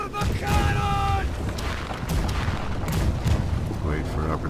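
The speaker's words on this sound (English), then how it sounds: "Fire the cannon!" Ship cannons booming in the Blackwake naval video game, with heavy rumbling shots and crackling blasts rolling through the battle and voices talking underneath.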